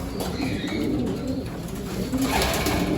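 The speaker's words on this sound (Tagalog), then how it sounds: "Gutom na nga sila mga kalapatids." Pigeons coo softly and repeatedly inside a loft and aviary, a close, continuous murmur of overlapping calls over a steady background.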